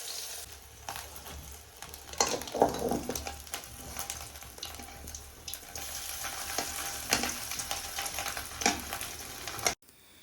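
Dried fish rubbed with chilli sizzles steadily as it fries in a pan, a dense crackling hiss with brief louder pops and stirring scrapes, close and continuous with no talk.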